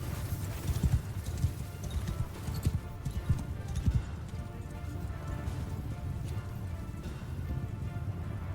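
Horse hooves clip-clop steadily in the medieval battle game Bannerlord, a dense rhythmic patter under a low rumbling din of troops and battle noise, with scattered voices shouting commands.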